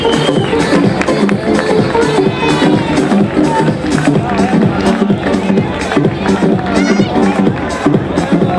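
A carnival ball crowd applauds a group costumed as the Addams Family, with steady rhythmic clapping and cheering filling the room alongside crowd babble.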